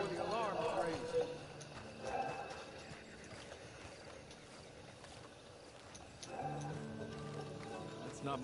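Horse hooves clip-clop in Red Dead Redemption 2 Online, a steady near rhythm of light strikes running through the whole stretch, with voices talking and game music over them.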